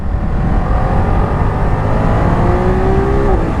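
Ducati Multistrada V2S motorcycle engine ridden at speed on a road, a steady, loud mechanical drone with a tone that rises slightly near the end.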